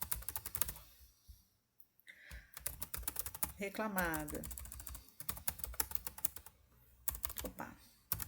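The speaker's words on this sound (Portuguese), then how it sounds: "o teclado está muito baixo" Typing on a computer keyboard during data entry in calculation software, a rapid patter of close key clicks that continues between and under stretches of talk.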